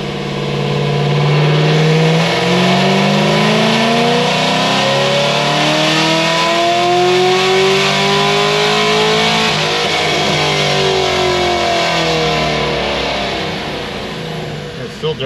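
A turbocharged car engine running 8 psi of boost on 91-octane fuel pulls hard under full acceleration. The loud, close engine drone runs throughout, its pitch sweeping up and down steadily as it revs.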